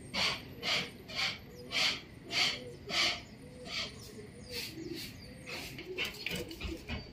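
Racing pigeons coo outside a neighbour's loft in Bulacan, a faint, regular series of soft calls repeating roughly every half second over a low, noisy outdoor background.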